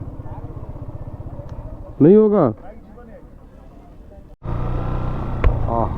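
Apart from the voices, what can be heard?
motorcycle riding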